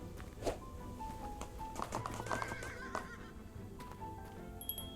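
A horse in a video game whinnies and snorts with clip-clop hoofbeats and light tapping, fairly close and moderately loud, with no talk.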